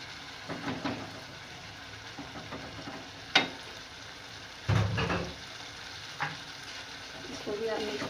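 Yogurt is mixed into chole masala frying in a pan, with several scattered scrapes and knocks of a spoon over a low, continuous sizzle.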